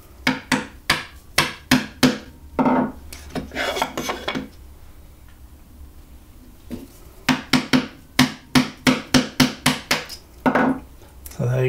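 Wooden mallet striking a chisel through 18 mm walnut, a rapid run of sharp, close knocks in two bursts separated by a quieter pause with faint scraping.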